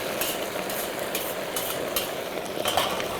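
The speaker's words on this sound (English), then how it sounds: "Now we're going to add our shrimp and vegetables to the dish." Shrimp and vegetables dropped into a hot oiled pan, producing a steady, dense sizzle that stays loud and even throughout, with faint stirring clinks and no talking.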